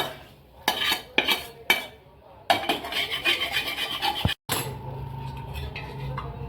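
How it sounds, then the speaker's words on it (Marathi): Eggs are turned in a pan with a spatula and lifted out. Several sharp metal scrapes and clinks come first, then a busier stretch of rubbing and stirring, then a quieter low-level frying hiss. "पाच मिनिट चांगले अंडे असे परतून घ्यायचे पाच मिनिट झाले आपण काढून घेऊ"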